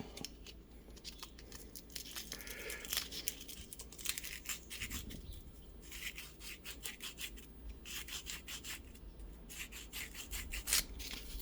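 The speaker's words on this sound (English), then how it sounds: "take a tiny bit of sandpaper, fold it up" Folded sandpaper rubs against a small piece made from Irish pennies for a Guardian bell, in quick, close, repeated scratchy strokes, faint and with no voices.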